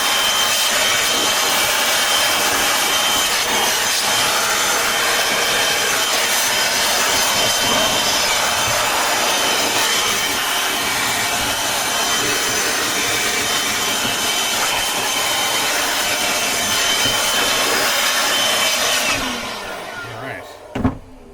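Compressed air blasting leaves and debris out of a gas 2005 Club Car Precedent golf cart engine, a loud steady roaring hiss that runs continuously and then cuts off near the end.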